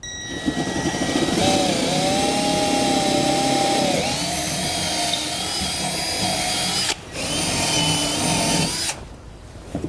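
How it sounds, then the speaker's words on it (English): A power drill whines loudly and steadily while drilling mounting holes for a forged D-ring bracket, its motor pitch dipping and rising as it bites, with a brief pause near the end before it stops. "Now we can remove this and finish drilling our holes."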